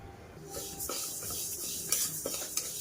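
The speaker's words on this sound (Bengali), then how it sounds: "কড়াইতে প্রথমে ডালটাকে একটু ভাজা করে নেব" Moong dal is dry-roasted in a wok, with a dry rustling hiss as a spatula stirs and scrapes the grains, plus a few sharp metallic clicks toward the end and no voices.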